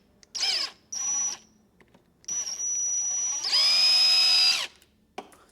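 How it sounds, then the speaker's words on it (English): A power drill spins a left-handed bit in reverse to back out a broken bolt on a Ford CL 340 skid loader, in several short high-pitched whirring bursts and then one longer, louder run, close and clear. "This is a left-handed drill bit, so you run it in reverse."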